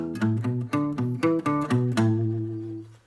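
An acoustic guitar fill from a song: a quick run of about eight plucked notes and double-stops in uneven rhythm, ending on a note that sustains and fades. Close and clear, with no voices.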